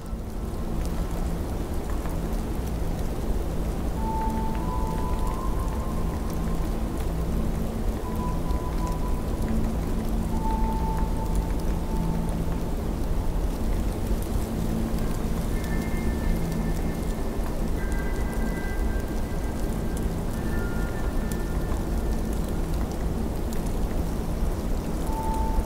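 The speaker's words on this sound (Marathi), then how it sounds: "एवढा पाऊस इथं होतो आणि यंदा तर रेकॉर्ड ब्रेकच पाऊस झाला" Heavy monsoon rain pours steadily over Patharpunj village in Maharashtra, a dense, continuous wash of falling water that holds the same level throughout, with no voices.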